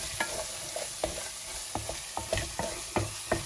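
Cumin, chili, turmeric and coriander powders roasting in a pan, a spatula scraping and tapping in a quick uneven rhythm, about ten close, crisp strokes over a soft dry sizzle with no talking.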